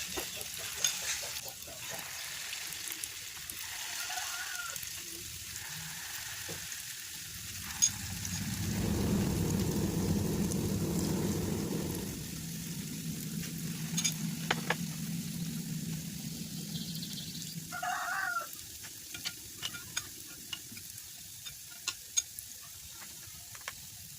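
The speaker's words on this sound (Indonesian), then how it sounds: "kita ambil adonannya ini untuk digoreng ke dalam wajan satu per satu" Traditional cake batter dropped piece by piece into hot oil in a wok over medium-low heat, a steady soft sizzle building into a louder frying burst midway, with light utensil clicks throughout.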